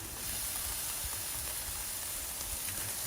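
Teriyaki-marinated pork sizzles on a Blackstone griddle outdoors in cold winter weather, giving a constant dense hiss that holds at an even level throughout with no voices.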